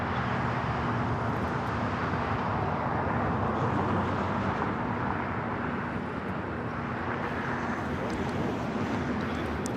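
A DHL cargo plane operated by Polar Air Cargo taking off from Los Angeles airport bound for Cincinnati, a loud continuous jet engine roar holding steady throughout, with radio talk underneath.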